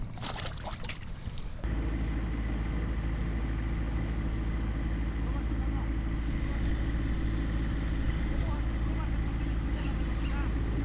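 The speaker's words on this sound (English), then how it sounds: "Guys on the tractor behind me" A tractor engine runs close behind someone bass fishing at the water's edge, giving a steady, loud, droning hum that starts abruptly and holds constant, with brief handling noise at the very start.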